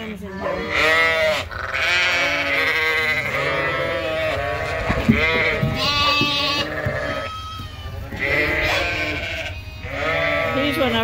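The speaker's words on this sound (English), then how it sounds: "A lot of big, big lambs in here." Many sheep and big lambs, including bottle-fed triplets, bleat repeatedly on a farm, overlapping calls rising and falling close by, with a person talking at times among them.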